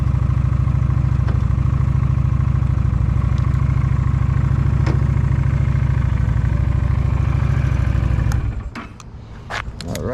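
A Honda cruiser motorcycle idles steadily with a low, even rumble throughout, then the engine cuts off near the end, leaving brief clicks and quiet.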